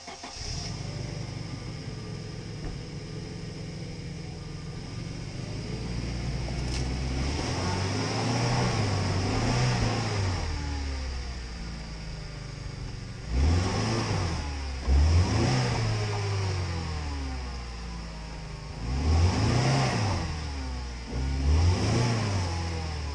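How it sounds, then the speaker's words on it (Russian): A UAZ Patriot off-road vehicle's engine revs hard in repeated loud bursts as it strains to pull onto a rural clearing, with a steady mid-pitched idle drone between the surges. "Сейчас попробуем газануть и выехать вот на эту полянку."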